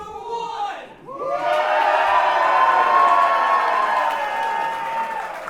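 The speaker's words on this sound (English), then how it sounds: "pops from the crowd." A wrestling crowd greets the first contestant with a loud, sustained cheering pop that swells after a brief dip and holds steady with shouts and whoops, with talk over the top.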